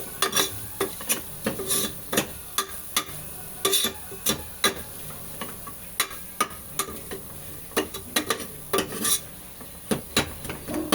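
A cooking pot being stirred and mixed, with repeated sharp scrapes and clinks of a utensil against the metal over a soft background sizzle, close and steady with no talking.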